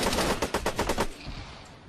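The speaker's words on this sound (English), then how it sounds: "It's those cannons in that building." A rapid burst of about eight heavy, evenly spaced cannon blasts fires in quick succession from a building, then stops, leaving a fading rumble; Arma 3 weapon fire with no talking.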